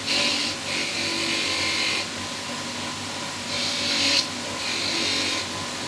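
A spinning polishing wheel buffing metal Viking brooches, giving a steady whirring motor hum with hissing swells as the pieces are pressed against it, close and continuous and with no voices.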